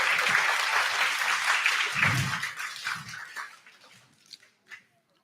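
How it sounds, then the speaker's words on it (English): An audience at an educational orchestra concert applauds a young musician, loud sustained clapping that thins out and fades to a few last claps. "Give her a round of applause."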